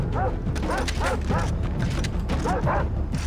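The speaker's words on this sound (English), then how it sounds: "Now let's take care of these asshole dogs." Dogs bark repeatedly in a rhythmic series of sharp yips and bow-wows during combat in the video game Far Cry 3, loud and close over a steady game background with mechanical clatter.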